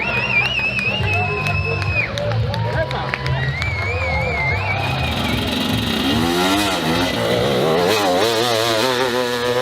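A dirt bike on a steep hill climb at Andler revs hard and rises in pitch, strongest in the second half, over a constant crowd murmur and nearby voices.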